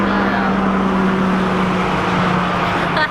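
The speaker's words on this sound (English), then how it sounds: "Loud truck." A loud truck passes close by, its steady engine rumble and road noise filling the whole stretch at constant volume before easing off slightly at the very end, with no talk over it.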